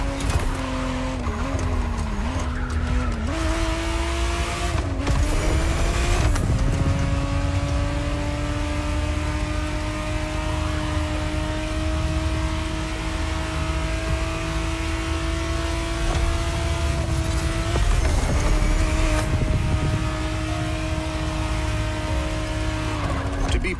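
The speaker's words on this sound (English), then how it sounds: "the exact model Motorfest has put in your hands is the 1991 re-engineered version of the Testarossa, introduced as the 512 TR" A 1991 Ferrari Testarossa 512 TR driven in the racing game The Crew Motorfest roars loudly and continuously, its engine revving up and down through gear changes, with tire squeal in places.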